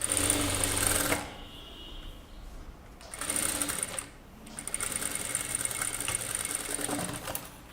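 A sewing machine stitching kurta fabric, running in rapid mechanical bursts with short pauses between runs, close and clear.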